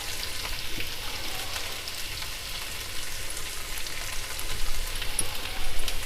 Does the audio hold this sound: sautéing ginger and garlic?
yes